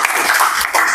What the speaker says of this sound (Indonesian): boleh kita berikan aplaus ya buat Kirana